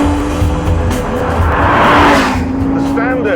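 Audi R8 fitted with a 5.2-litre Lamborghini V10 driven hard, a loud engine howl with revs climbing and a brief tire squeal, close up, with someone speaking over it.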